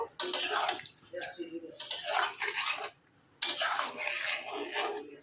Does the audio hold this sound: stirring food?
yes